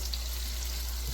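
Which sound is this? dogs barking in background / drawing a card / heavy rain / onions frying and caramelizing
onions frying and caramelizing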